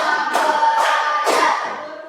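Students in a class clap their hands in unison, producing three crisp group claps spaced roughly half a second apart, evenly timed, over continuous low background noise.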